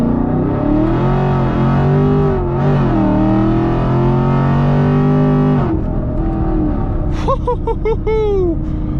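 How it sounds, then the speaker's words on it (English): A 500 whp Chevrolet Camaro SS under hard acceleration with spinning wheels gives a loud, steady engine roar that drops off partway. A sharp burst of squealing, chirping tire noise follows near the end. "I'll do a 20 pull. You guys will see my wheels will not stop spinning."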